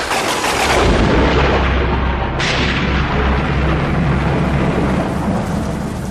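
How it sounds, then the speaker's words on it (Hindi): Heavy rain pours steadily and loudly while a deep rumble of thunder rolls through, with a sharp crack partway in. "बहुत ही तेज बारिश होने लगी और बादल गरजने लगे।"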